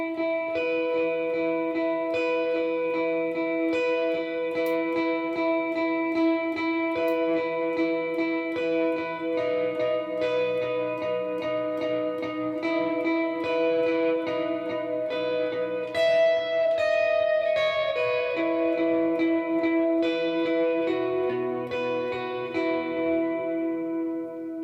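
Guitar plays a repetitive, chill background part behind the chorus of a worship song, steady and sustained with heavy effects, reverb and echo throughout, no voices.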